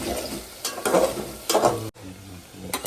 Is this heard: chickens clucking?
no